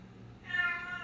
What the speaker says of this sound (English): sorry for my cats in the background